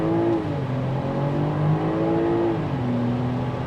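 A 2026 BMW X7 xDrive40i on the gas, its engine giving a loud, steady drone that rises and dips slightly in pitch as it pulls, with no talking.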